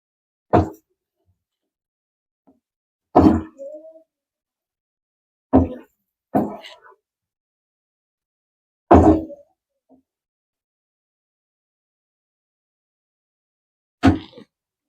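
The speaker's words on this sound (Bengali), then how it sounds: "পনিরটাকে ভালোভাবে মশলার সাথে মিশিয়ে নিতে হবে" Paneer pieces are mixed into a cooked spice masala: six separate soft, damp plops and thuds, each followed by silence, irregularly spaced and close.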